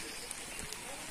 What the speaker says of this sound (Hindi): अभी हल्की बारिश हो रही है, लेकिन बारिश शुरू हो गई है।